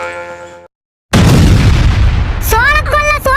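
A firecracker set off near a farm goes off with a sudden loud boom after a moment of silence, followed by a long rumbling decay, and then excited voices shout over the fading noise.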